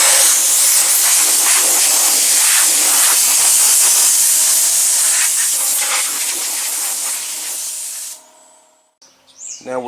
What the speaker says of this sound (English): now we'll blow it off with the air hose